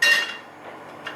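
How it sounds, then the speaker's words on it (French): A metal frying pan set down on a restaurant stove, a single bright clank at the start that rings briefly and fades, followed by faint small clinks. "Je vais mettre ma poêle à chauffer."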